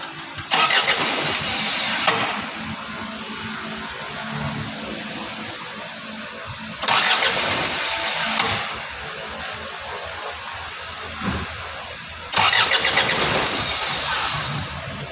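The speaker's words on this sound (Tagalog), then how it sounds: "So try natin patayin tapos bandarin natin ulit." Isuzu 4HJ1 diesel engine with an injector fault being cranked three times, each a loud two-second burst of starter whirring and squealing, separated by quieter stretches of fainter mechanical noise.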